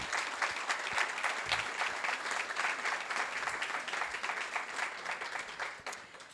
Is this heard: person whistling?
no